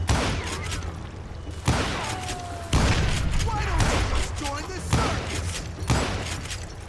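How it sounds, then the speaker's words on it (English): Dynamite blasts go off in a Call of Juarez: Gunslinger shootout, several loud booming explosions spaced a second or so apart amid gunfire and game sound effects. "you just get hammered with this goddamn dynamite"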